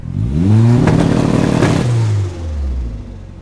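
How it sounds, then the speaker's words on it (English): A turbocharged Honda Civic converted to rear-wheel drive revs loudly, its engine note rising to a harsh peak. It then drops back toward idle with a short rattling surge near the top. "as you can hear, the turbo surged. Clearly we're getting boost from just revving it"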